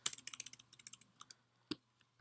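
Typing on a computer keyboard while coding in Python: a quick run of light, close key clicks that slows to a few scattered taps, then two louder isolated keystrokes after a short pause.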